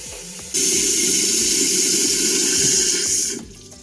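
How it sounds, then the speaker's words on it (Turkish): Water rushes into a concealed toilet cistern as the supply is turned on, a sudden loud steady hiss that runs for about three seconds and then cuts off. "Şimdi suyu açıp kontrol edeceğiz."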